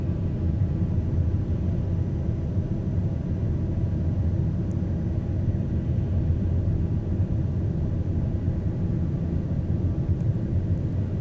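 A light aircraft's engine in Microsoft Flight Simulator 2020 hums as a steady, low, even drone throughout, with no voices.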